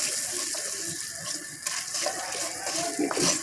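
About a glass of chicken stock pours into a pan of rice in a home kitchen, giving a steady, close splashing trickle that runs throughout.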